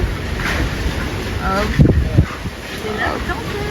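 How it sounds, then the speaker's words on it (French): Strong wind gusts across an outdoor spot in Marrakech, roaring as steady broadband noise that buffets the microphone throughout, with people talking over it. "il y a quand même pas mal de vent"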